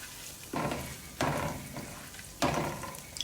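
Butter melts into hot oil in a pot for shrimp biryani, sizzling and crackling steadily. Three sharper bursts of frying noise flare up close by, and there is no talk.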